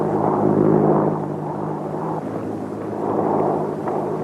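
Airplane engine running as it starts for take-off, a steady droning propeller roar with slight pulsing swells, fairly loud and unbroken throughout.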